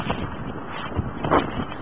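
Wind buffets a microphone outdoors, a low rumbling gusty roar with a brief stronger gust near the end and no talking.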